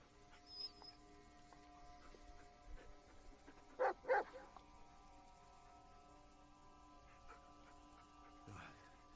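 A dog in the Blair Witch horror video game gives two quick close barks in the middle of a quiet, eerie ambience with faint scattered noises.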